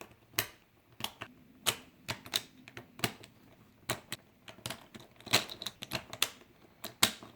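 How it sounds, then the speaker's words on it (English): Plastic speedcube pieces, Valk Power edges and corners, are fitted together by hand, giving a close, irregular series of sharp little clicks and snaps with short pauses between them. "put all the Valk Power edges with the Valk corners and see how that goes"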